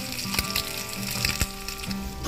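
Food frying in a pan, a soft steady sizzle with a few sharper crackles and pops, fairly quiet and close.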